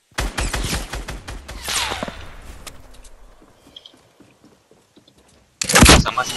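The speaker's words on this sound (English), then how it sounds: "Someone sniped him, watch out." Gunfire in a Fortnite battle royale match, a rapid burst of sharp cracks at the start that trails off into quieter scattered reports, then another loud blast of shots right at the end, with no voices heard.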